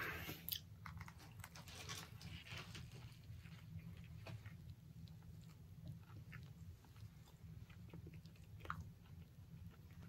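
Biting and chewing a Wendy's spicy hot honey chicken sandwich up close, with soft crunchy bites and steady wet mastication over a low background hum, continuing for several seconds without talk.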